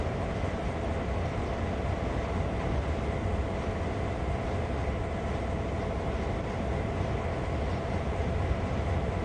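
Freight train in Train Sim World 2 on the Sand Patch Grade route, a steady, loud continuous rumble with a sustained hum and faint clickety-clack throughout, no voices.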